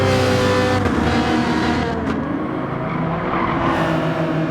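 A Ferrari race car engine in the Gran Turismo 7 racing game drones at high revs, with clear gear-change breaks and a passing whoosh, loud and steady throughout with no talk.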